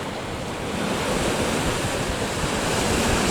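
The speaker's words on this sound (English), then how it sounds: "there's some quite some little waves coming in here." Small waves wash steadily onto a beach on a rising tide, a continuous broad surf rush mixed with wind noise, with no voices.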